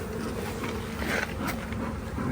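Bees swarm around a kitchen setting, producing a dense, continuous buzzing drone close to the listener with no voices.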